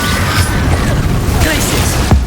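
A Confringo spell explosion in Hogwarts Legacy thumps low and loud near the end, following a steady wash of magical rumble and effects.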